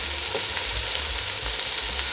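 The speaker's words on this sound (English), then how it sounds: "the oil is hot. As you can hear the sizzling." Steady, close frying sizzle of onions in hot oil in a stovetop pot, a continuous crackling hiss with no talking.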